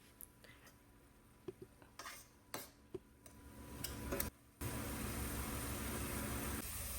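A spoon stirs chili powder into a mixture in a cooking pot with sparse scraping clinks, then a sudden steady loud sizzle takes over for the last few seconds.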